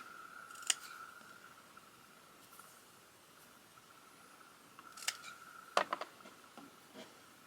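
Scissors snipping during a craft glue test, a sharp isolated snip followed later by a cluster of quick close cuts over faint background hiss.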